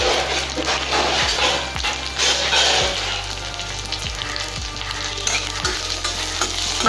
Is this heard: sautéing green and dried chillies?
yes